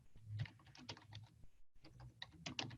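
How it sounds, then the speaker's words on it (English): Quiet, quick keystrokes on a computer keyboard in irregular bursts with a brief pause, close and alone with no voice. "Let me type that up."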